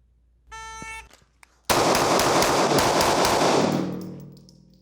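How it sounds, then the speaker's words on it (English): A Ruger American pistol fires seven rounds in quick succession at a shooting range, sharp loud close reports after a shot-timer beep, the ringing fading at the end. "I fired 7 rounds there. All right, I'm shooting the Ruger American pistol."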